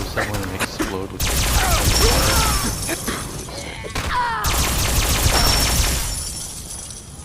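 Alien assault rifle from a Fallout game mod fires in two long bursts of crackling energy blasts with whooshing sweeps, separated by a short pause, loud and close with game sound effects layered throughout.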